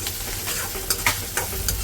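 Onion frying in a pan hisses steadily, with a few quick scraping bursts near the end as it is stirred.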